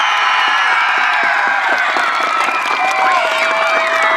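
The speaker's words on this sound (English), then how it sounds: "to hear you cheer one more time" A school crowd, likely children, cheers loudly and continuously at a launch event, a dense wall of shouting and whooping voices with no pause throughout.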